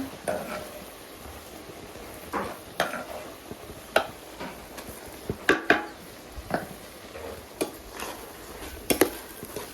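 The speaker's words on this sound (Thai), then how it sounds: "คลุกเคล้าให้เข้ากัน" Stirring a pumpkin dish with home-pounded curry paste, cooked to feed workers: a spoon or ladle scrapes and knocks against the pot in scattered, irregular strokes over a soft background, with a faint sizzle.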